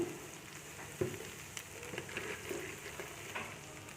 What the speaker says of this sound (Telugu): తొందరగా వేగుతాయి ఉల్లిపాయలు